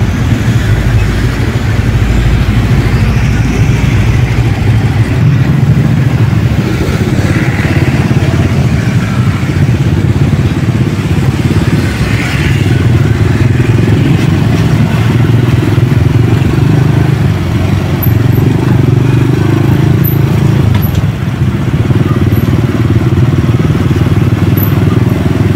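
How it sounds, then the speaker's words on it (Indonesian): Dense morning road traffic of cars and motorcycles near the Kronggahan intersection in Yogyakarta: a steady, loud rumble of engines passing continuously close by, with no pauses. "Dan ini suasana pagi hari ini, arus kendaraan cukup padat."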